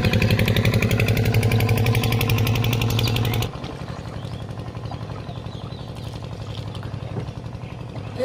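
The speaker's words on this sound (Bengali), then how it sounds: "মাছ ধরা নৌকা যাইতেছে।" A fishing boat's engine chugs loudly and steadily on the Brahmaputra river, close at first, then drops noticeably in level partway through as it carries on past.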